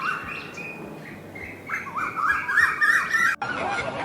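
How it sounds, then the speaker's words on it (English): Cuckoo calling among other birdsong, with repeated chirping phrases that grow louder toward the end over steady outdoor background, ending in a brief cut and a short spell of ambient sound. "cuckoo,"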